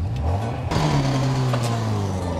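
A car engine revs hard as the driver accelerates, the pitch climbing steadily with a sharp rise in throttle partway through, loud and close with no talk over it.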